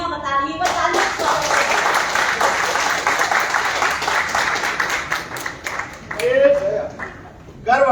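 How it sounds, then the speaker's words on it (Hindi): Audience at a Hindi literary festival stage event claps in a steady, dense round of applause lasting several seconds, with a host speaking over the start and end. "ये आपकी तालियां बता रही है। बस तालियां।"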